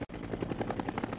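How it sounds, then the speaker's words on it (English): A military helicopter from the Korean War era flies overhead, its rotor thumping in a fast, steady rhythm, loud and close, with no voices. "the helicopter."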